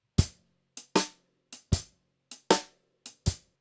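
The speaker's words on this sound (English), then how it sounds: "if we change the hi-hat super, super late to the last 16th, we get a very, very hard shuffle" Hard-swung drum kit shuffle groove, hi-hat placed late on the last sixteenth, with sharp, loud hits in an uneven long-short pattern, each strike decaying quickly into silence.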